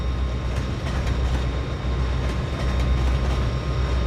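A train in the Trainz 2022 simulator rumbles past with a loud, continuous low roar and faint rhythmic rail clatter, steady throughout and free of talk.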